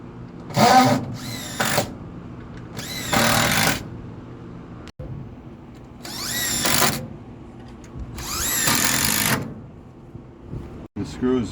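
Power drill driving screws through steel truss plates into glued wooden truss timber, several short bursts of whirring broken by pauses, close and fairly loud.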